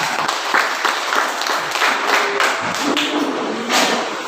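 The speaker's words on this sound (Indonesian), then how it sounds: "mari kita tepuk tangan dulu untuk kelompok 4" Classroom applause for group 4 from junior high students, a dense steady patter of many hands clapping close by for about four seconds, with no talking over it.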